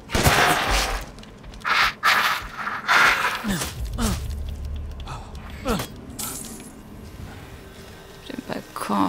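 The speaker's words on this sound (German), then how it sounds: "Wir sollen die Rifle bestimmt verwenden, aber so geht's ja auch mit einem Schuss" Gunfire in Resident Evil Village rings out as several sharp, loud shots spread irregularly across the stretch, with someone talking over the game's noise in between.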